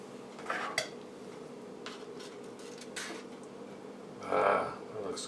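A serving utensil scrapes and clinks against a pan while a slice of homemade lasagna is cut and lifted out, with a few sharp metallic taps and a soft squishy scrape near the end, close and fairly quiet.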